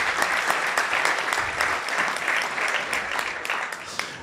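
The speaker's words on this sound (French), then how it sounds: "On peut applaudir" A live audience gives a guest a round of applause at a French startup pitch event, with loud, dense clapping sustained evenly from start to finish.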